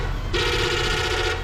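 A single sustained bus horn blast sounds loud and close for about a second over a low engine rumble, on a local bus in Peshawar.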